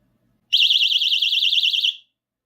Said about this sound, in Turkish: Burası basıldığında şu şekilde alarm çalışmaya başlıyor.